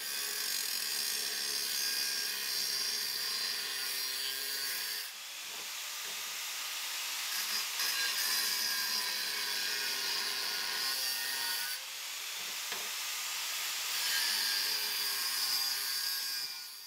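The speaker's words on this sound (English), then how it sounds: "grab your favourite angle grinder and just cut that piece of steel in half on the line you marked" An angle grinder cuts through a piece of steel held by hand along a marked line, giving a loud, steady, harsh high hiss that dips briefly twice and continues without any talking.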